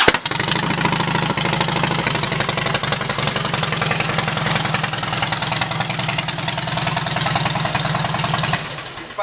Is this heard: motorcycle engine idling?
yes